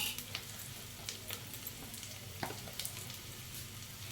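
Potato pieces frying in oil for a hotel-style aloo garlic chili dish: a faint, continuous sizzle with scattered small pops and crackles, heard alone without any talking.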